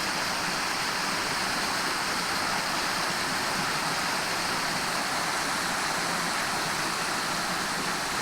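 Icy Falls, a waterfall running low at a rocky swimming hole, roars as a steady broad rush of water throughout, close and constant with no voices.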